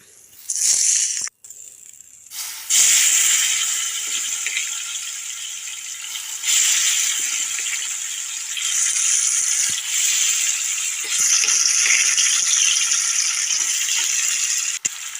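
Ripe jackfruit pieces for pickle frying in hot oil in a pan, a loud, steady, close sizzle with a few sharp breaks and clatters as pieces go in.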